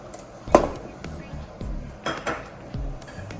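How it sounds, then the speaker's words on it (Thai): Utensils clink and knock against a cooking pot as sugar is added to coconut milk for a Thai cassava dessert, with a sharp clatter early and softer taps after, and speech in the background. "จะใส่น้ำตาลครับ"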